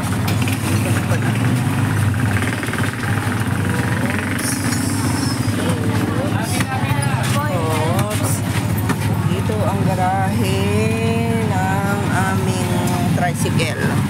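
A tricycle engine drones steadily during a ride, with a constant rough rumble underneath while a person talks over it for most of the stretch.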